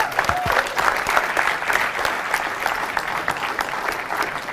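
An audience claps and applauds steadily throughout, with dense, continuous clapping from a crowd at a live talk and no speech over it.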